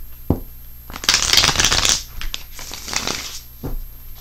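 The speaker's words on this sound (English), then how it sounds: "let's go ahead and put these cards down" Tarot cards are handled and laid down, giving crisp papery shuffling and sliding with a few sharp taps, close and fairly loud, alone without talk.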